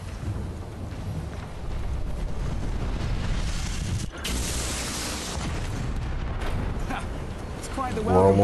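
Fireworks bursting in the video game Gangs of Sherwood, heard as a steady, dense rumble of crackling booms with a sharp drop around the midpoint and a louder burst at the end, with game music or voices faintly underneath.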